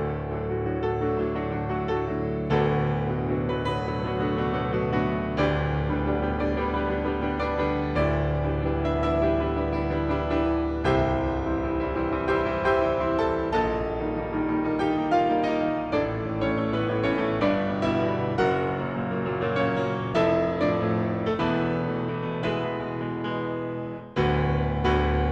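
Bösendorfer Imperial 290 concert grand piano playing a Liszt piece, with full, resonant chords and deep sustained bass notes that carry continuously for about 25 seconds, heard alone without any talking.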